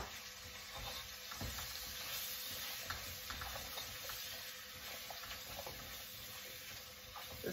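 Vegetables stir-fried in a pan, a steady broadband sizzle with frequent scraping stirs and clinks running continuously throughout, fairly close and even in level.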